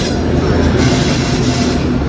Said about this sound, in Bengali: দেখুন লাইনে আওয়াজ হচ্ছে, লাইনে ভাইব্রেশনের আওয়াজ।